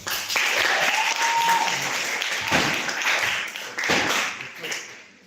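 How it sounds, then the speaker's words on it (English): A live audience breaks into a sustained round of applause at an online event, dense clapping running steadily throughout with a few louder swells, and a voice speaking briefly underneath. "Can you give me a round of applause?"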